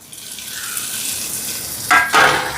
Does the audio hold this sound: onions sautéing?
yes